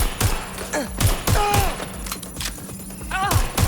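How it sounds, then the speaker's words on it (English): Gunfire in the video game Watch Dogs: Legion, with several sharp, close shots and thuds spaced irregularly through a busy scene, mixed with shouted voices and other game effects. "Shots fired!"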